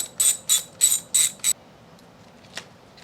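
A ratchet loosens a 10mm bolt holding a wiring harness bracket on a 2003 Toyota Camry 2.4L engine: five quick, crisp ratcheting bursts up close, then quiet with one faint click.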